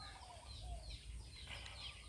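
Fighting cocks being raised and exercised on a Thai farm, with faint, scattered clucks and fowl calls in the background against steady outdoor noise.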